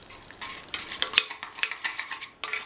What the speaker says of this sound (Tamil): மாங்காய் நல்லா சாஃப்டாக வந்துருச்சு. இதை ஒரு மேஷர் வச்சு நல்லா மேஷ் பண்ணி விட்டுறலாம்.